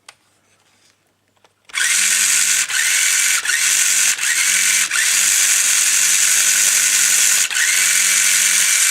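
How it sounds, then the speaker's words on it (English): A small motor on a Lego toy car hacked to run from a Raspberry Pi whirs loudly and steadily after a quiet start, with a faint rattling buzz and brief dips every second or so. "if I pick it up and just show you the motor spinning"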